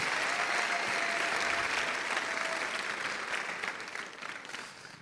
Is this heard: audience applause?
yes